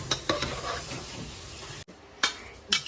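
A spoon stirs a biryani mixture in a pot, scraping and sizzling steadily for nearly two seconds, then a short pause followed by two sharp metallic clanks against the vessel.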